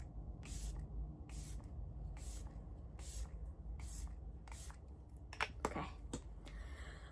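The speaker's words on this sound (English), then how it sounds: "I'm just gonna do 6 or 7 sprays." Beauty Crop setting mist sprays onto a face in about seven quick, evenly spaced hissing pumps, close and crisp, followed by a few faint rustles.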